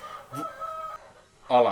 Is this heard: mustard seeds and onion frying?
no